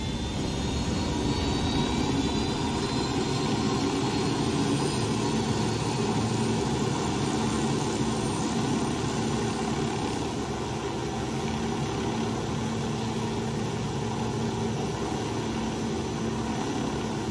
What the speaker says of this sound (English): Now, is my helicopter damaged?